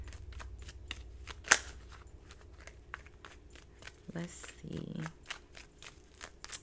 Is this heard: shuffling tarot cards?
yes